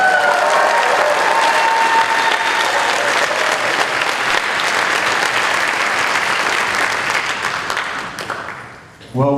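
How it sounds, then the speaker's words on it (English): Enthusiastic audience applause fills a live concert venue near the end of the show, a dense, steady wash of clapping that holds loud for about eight seconds before thinning out, with a few scattered cheers. "especially when we get the kind of applause and the gratitude from our audience"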